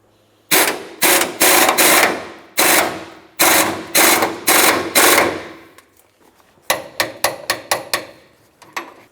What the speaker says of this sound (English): Now we can torque this to 120 foot-pounds.